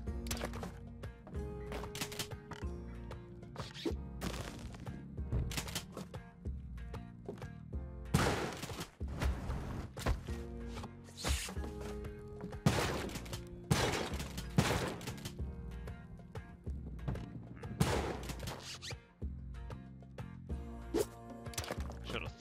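Gunfire crackles in Spelunky 2 as a string of sharp shots and impacts, irregular and fairly loud, over busy game music.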